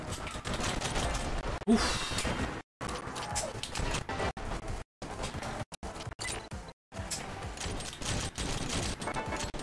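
Gunfire from the Rollerdrome video game, with rapid bursts of shots that keep breaking off into short silent gaps, all loud and close.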